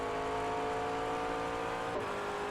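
McLaren MP4 race car in the iRacing video game at Fuji, its engine droning steadily at high revs before a quick upshift into fifth gear briefly drops the pitch, alone with no voices.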